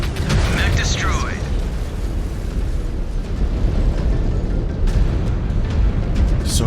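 A mech blows up as it is destroyed in MechWarrior 5: Clans, a loud, sustained roaring explosion with crackling debris and rumbling aftershocks, joined by brief sharp bursts and a voice speaking partway through.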